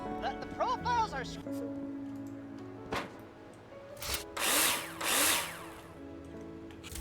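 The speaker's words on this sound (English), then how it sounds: "Now place them in the hologram and screw them in with a drill." A power drill in Builder Simulator drives screws into metal profiles, whirring in short bursts with rising and falling pitch, several separate runs with pauses and clicks between them, close and fairly loud.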